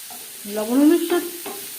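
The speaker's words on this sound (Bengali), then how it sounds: "পেঁয়াজ লালচে করে ভেজে নেব" Onions frying in a pan with turmeric, salt and green chilli, with a short burst of stirring and scraping that gives a squeaky, tonal rasp over a soft sizzle.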